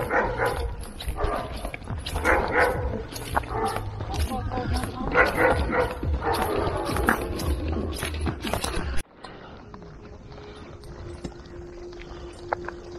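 Several dogs bark in quick bursts beside a lake, loud and close over steady background noise, with a voice speaking among them. The barking stops abruptly after about nine seconds, leaving quieter ambience.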